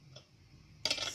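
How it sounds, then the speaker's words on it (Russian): Quiet kitchen room tone, then a sudden clatter of a metal saucepan being lifted and handled, bright clanking and scraping close by. "Я возьму другую кастрюльку."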